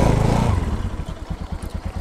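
A motorcycle engine idles close by as the bike is being parked, a loud opening rumble settling into a fast, even putter that continues alone to the end.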